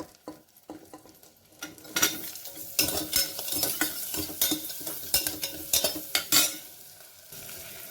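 Garlic, beetroot, pumpkin and other vegetables sauté in a pan for a soup, giving a close, uneven sizzle with bursts of stirring and clinks from a utensil against the pan, and no talk.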